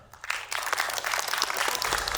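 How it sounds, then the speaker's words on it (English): Applause for a speaker at a Web3 entrepreneurs and investors conference swells in quickly after a short lull and continues as dense, lively clapping from a large crowd. "Another big round of applause here."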